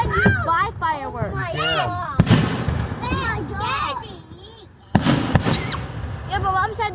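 Fireworks boom in two sudden, loud bursts a few seconds apart, set against continuous chatter and excited voices nearby.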